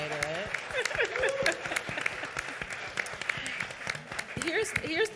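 During a panel Q&A after a film screening, an audience gives light, patchy applause mixed with a speaker's voice and audience chatter, moderately distant and fairly soft.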